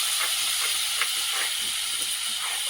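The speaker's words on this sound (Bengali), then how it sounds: "উনুনটা দারুণ জ্বলছে কিন্তু।" A clay stove fire burns strongly in a home kitchen where fish is being cooked, giving a steady roaring hiss with faint crackles throughout, close and even in level, with no talk.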